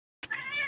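A new kitten gives a brief vocalization after silence, a tonal, strained meow-like growl that rises and holds steadily, close and fairly loud.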